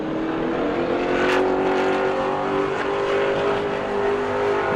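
A Pro Late Model race car engine roars steadily at high revs during a qualifying lap at New Smyrna Speedway, a loud sustained drone with shifting pitch as the car runs its lap.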